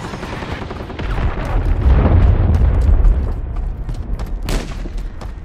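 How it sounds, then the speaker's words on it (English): A loud, rumbling cruise missile blast in Call of Duty MW3 on the Wasteland map swells into a heavy low boom that rolls and fades, with scattered gunfire cracks layered over it. "Friendly cruise missile deployed."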